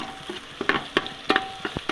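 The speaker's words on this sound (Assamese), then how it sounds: "পিঁয়াজখিনি দি ভাজিলাম" Onions fry in a pan with a steady background sizzle, broken by several sharp scrapes and clinks as a spatula stirs them, close and alone.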